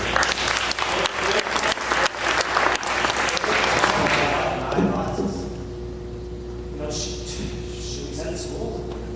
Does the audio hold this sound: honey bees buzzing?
no